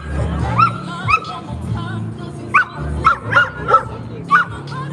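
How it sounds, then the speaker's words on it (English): An excited dog at an outdoor rally in Denver gives a string of high yips, whimpers and barks on seeing another dog, loud and close, with crowd murmur underneath. "the dog's really excited to see another dog."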